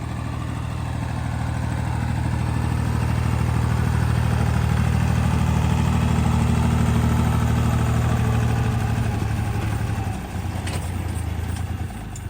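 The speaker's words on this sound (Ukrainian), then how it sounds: "Татко працює. Поки що старим тракторцем." An old small tractor engine runs steadily nearby, a low continuous throb that holds for about ten seconds before dropping and shifting as the note changes near the end.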